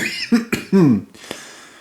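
A few short, sharp coughs close to the microphone, one right after another, followed by quiet.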